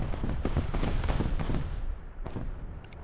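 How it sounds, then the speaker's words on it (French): A tank shell strikes an enemy tank's track in a competitive tank video game match, a cluster of sharp, booming impacts with a rumbling tail that fades out over a few seconds. "Gros Tard qui vient de lui mettre un obus dans la chenille"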